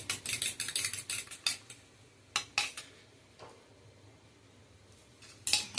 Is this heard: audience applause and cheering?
no